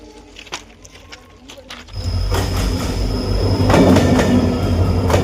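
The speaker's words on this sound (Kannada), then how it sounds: "ಅದೇ ನಮ್ಮ ಮುಂದೆನೇ ಐತೆ ಟ್ರೈನ್." Train on the railway track near Dudhsagar: quiet at first, then a loud, close rumble of wheels on rails swells up and holds steady as it passes.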